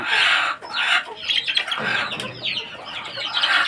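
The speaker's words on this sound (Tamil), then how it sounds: "இவங்க எல்லாமே மூன்றரை மாத குஞ்சுகள் இதுக்குள்ளே இருக்காங்க" Three-and-a-half-month-old chickens squawk and cluck inside a coop, shrill overlapping calls coming one after another with a little wing flapping, near and fairly loud.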